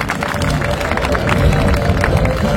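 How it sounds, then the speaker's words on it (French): Spectators applauding at a Limousin cattle show at Libramont, steady clapping mixed with crowd murmur and a faint hum in a large hall. "Vous pouvez les applaudir."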